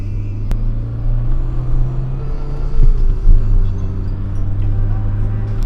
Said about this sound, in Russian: Мы включаем вторую передачу и делаем тапку в пол.